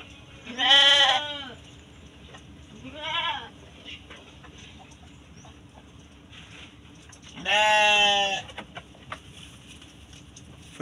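Sheep bleating on a rural Indonesian smallholding where a ewe has just given birth, three loud wavering bleats close by, the last the longest, with quiet farmyard background between them.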